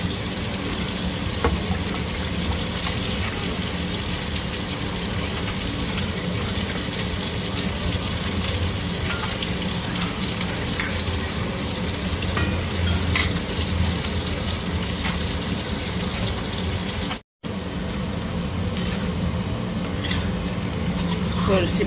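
Drumstick stalks for a mustard-paste sojne data chorchori simmer and fry in a bubbling curry pan, a steady close sizzle with stirring scrapes running throughout, broken by a brief cut near the end.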